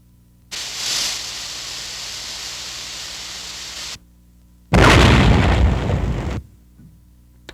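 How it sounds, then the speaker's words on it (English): A TNT charge detonates a buried mine at a heavily mined wartime air base in China: a long hiss of blast noise, then a louder, close roaring burst lasting under two seconds before fading out. "A TNT charge is set to explode a mine."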